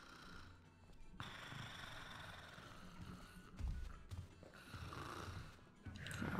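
A sleeping guard in the stealth game Thief snores in long, rasping cycles, each breath rising and falling in a slow rhythm, heard fairly close and alone without talk.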